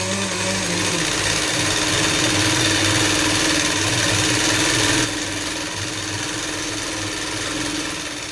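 A sewing machine runs steadily, stitching fitting seams on a readymade kurti, a loud continuous mechanical whir that drops slightly in level partway through but keeps going throughout.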